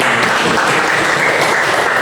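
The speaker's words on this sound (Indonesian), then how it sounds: "berikan tepuk tangan" Students in an eighth-grade classroom give a loud, close burst of clapping, a dense and even patter that holds steady through the whole moment without speech.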